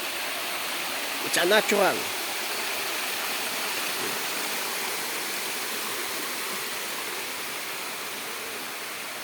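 Steady broadband rush of flowing river water fills a natural river pool at Lihim ng Kubli farm in Cavite, with a brief burst of nearby speech early on, then continuous even water noise throughout.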